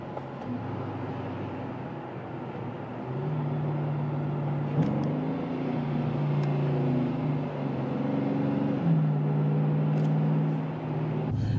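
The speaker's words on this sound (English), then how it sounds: "If I just tap the throttle, it downshifts immediately." A Dodge Challenger R/T with an automatic transmission downshifts on a light throttle tap, its engine drone stepping up in pitch a couple of times over a steady interior hum, moderately loud and without talk.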